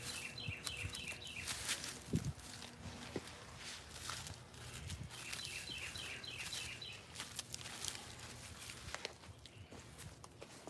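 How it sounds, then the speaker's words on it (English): Small birds chirp outdoors in repeated bursts of short, high calls. Footsteps and scuffing handling noises sit beneath them at a quiet level, and there is no talk. "Y'all hear them birds?"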